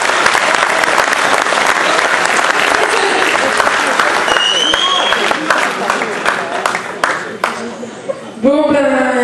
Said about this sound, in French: on peut l'applaudir en même temps